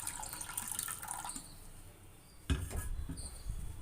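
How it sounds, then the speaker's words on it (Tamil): Water poured over sugar in a pan while making bread halwa, a splashing, trickling pour that starts abruptly partway through and continues steadily, close by, with no talk. "தண்ணி வந்து ஒரு கிளாஸ் போல் ஊற்றிக்கலாம்."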